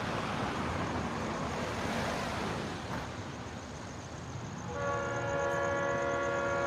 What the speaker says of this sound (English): Leslie 3 horn blowing.